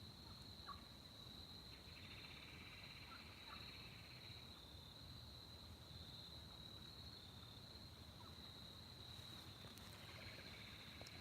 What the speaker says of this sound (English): So we got 4 turkeys down in the creek right beside our camp.